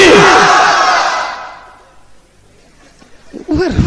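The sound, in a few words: crowd shouting the takbir in response to a preacher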